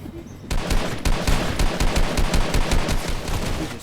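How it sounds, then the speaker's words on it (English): Loud, sustained automatic gunfire in Fortnite during a solo-versus-squads match, a steady rapid stream of shots firing nonstop for several seconds. "Stay still so I can shoot you in the face."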